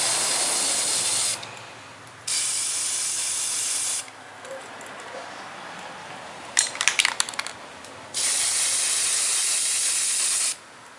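Spray paint hisses onto the bottom of a model Diesel Ducy No. 1 in several long, loud, steady bursts with short pauses between them, and a brief rattle partway through.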